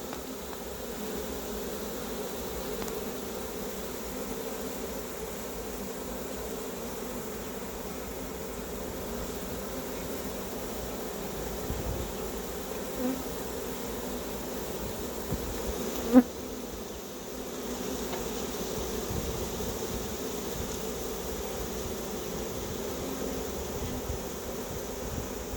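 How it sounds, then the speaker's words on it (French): A large honeybee swarm being moved into a hive hums in a steady dense buzz that runs throughout, near and even, with one sharp brief knock partway through and no talking. "Ah, des abeilles à plus savoir qu'en faire."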